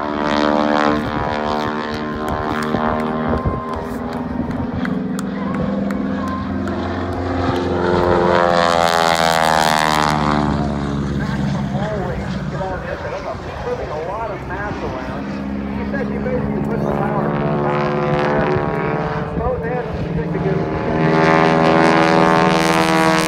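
Stearman biplane radial engine and propeller during aerobatics, a loud throbbing drone that swells and fades as the aircraft maneuvers, with speech over parts of it.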